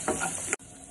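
Ginger garlic paste and chili hit hot oil in a pan, a loud steady sizzle with stirring scrapes that cuts off abruptly partway, then a quieter continued frying hiss.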